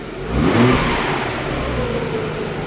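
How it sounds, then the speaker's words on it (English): A stock Nissan 300ZX engine revving from the factory setup: a short, smooth climb in engine note that swells and then settles back to a steady hum, close and loud. "That's what a Nissan 300ZX sounds like, stock from the factory. Give it a little rev, would you please?"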